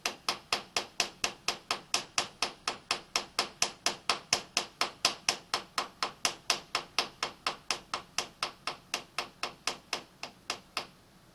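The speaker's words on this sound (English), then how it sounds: "And you can see while I'm tapping on the vise," A machine vise is tapped over and over at a steady pace, roughly three sharp knocks per second, each crisp and close, running for about eleven seconds with no voices.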